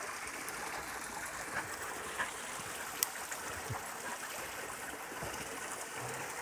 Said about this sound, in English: There's a gorgeous waterfall over here.